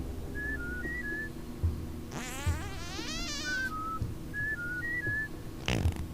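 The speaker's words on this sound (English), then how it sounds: "Let's just whistle wrongly." A character in the game Oddworld: New 'n' Tasty whistles commands: short two-note chirps recur through a steady insect-like hum, with a longer warbling whistled phrase in the middle.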